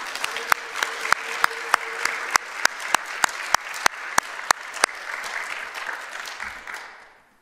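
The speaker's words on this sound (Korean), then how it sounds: "우리 모두에게 크게 사랑과 격려의 박수 한번 하십시다." A church congregation at a women's mission devotion service claps together in a loud, steady rhythmic applause, with sharp evenly spaced beats over a bed of scattered clapping that fades out at the end.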